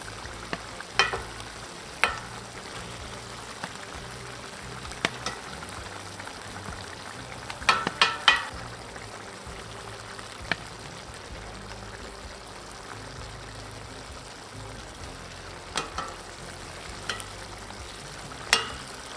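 Rice being stirred in a pot while beef plov cooks, with a low steady simmer broken by occasional sharp scrapes and clinks of the spoon, a cluster near the middle. Quiet and close.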